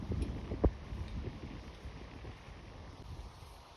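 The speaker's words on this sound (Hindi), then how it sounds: "ठंडी हवा चली" Cool wind buffets the microphone during a boat ride near Kotli and Mirpur, a low rumbling gusty wash with a few sharp thumps near the start, fairly faint and steady throughout.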